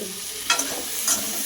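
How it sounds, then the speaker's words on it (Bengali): Yardlong beans fry in a pan as a spoon stirs them, a loud, close sizzle with two brief scraping sweeps of the stirring over a constant bright hiss. "আমি এখানে সবজিটা এইভাবে ভেজে নিই"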